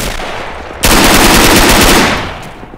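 Loud, sustained burst of rapid automatic gunfire in a tank-and-infantry war video game, a dense continuous volley lasting about two seconds before tailing off, heard alone without voices.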